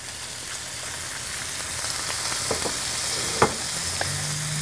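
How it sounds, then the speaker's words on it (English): Ground beef dropped into a hot oiled skillet sizzles steadily with a dense, bright crackle, with a few sharper pops and spatters rising above the continuous frying hiss. "You can hear the sizzle of the beef."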